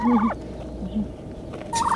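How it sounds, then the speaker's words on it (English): Domestic turkeys, toms and hens together, give short, close gobbling bursts with a pause between the calls. The calls are clear and loud, with no talking. "The toms have this dark red with the wattle, and the hens don't have that."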